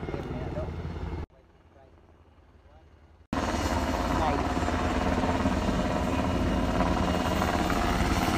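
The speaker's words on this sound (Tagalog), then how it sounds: "Ayan, palapit na dito yung helicopter." Helicopter approaching to land at Sitio Kapihan during a senator's visit, with a loud rotor and engine roar that drops out briefly and then returns close and strong for several seconds.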